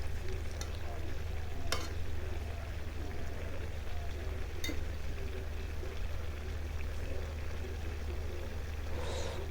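Papaya and radish vegetables are stirred in a pan over a low, steady hum, with a soft simmering sizzle and a couple of sharp scrapes or clinks of the utensil, faint and close.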